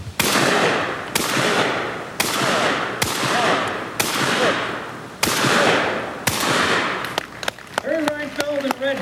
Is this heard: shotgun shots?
yes